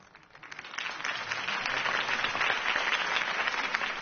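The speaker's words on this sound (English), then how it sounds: "If only Mr. Wayne, my campaign's largest backer, could have heard that applause" Crowd applause after a campaign speech in the video game Batman: The Telltale Series, a steady wash of clapping that swells within the first second and holds at an even level to the end, with no voices over it.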